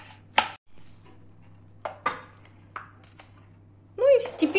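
A knife chopping a small piece of bell pepper finely on a board, a handful of sharp, spaced cuts close by, with a steady low hum underneath and some talk near the end.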